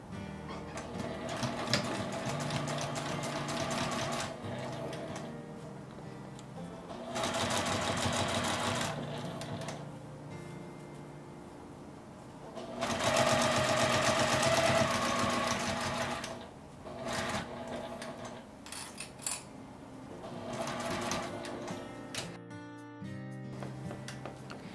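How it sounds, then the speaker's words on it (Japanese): A sewing machine stitches a 7 mm seam on a fabric pencase, running in loud, sustained whirring bursts separated by brief pauses and handling sounds. "今回は端から7ミリを縫います。"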